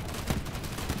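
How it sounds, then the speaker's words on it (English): Gunfire from Borderlands 3 sounds as a rapid, dense burst of shots packed into one continuous second of loud action-game audio. "I'm shooting him in the head"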